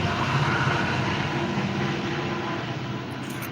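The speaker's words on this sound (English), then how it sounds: "That's a train. I thought someone was driving up." A train passes at a distance, a broad steady rumble and roar that holds at a constant level throughout, heard near a diesel work shop with no talking.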